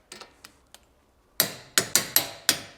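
Sharp metallic clicks from a torque wrench reaching its set value while tightening ball joint and suspension bolts on a V12 BMW E31 850i, several faint ticks at first, then five loud evenly spaced clicks, close up.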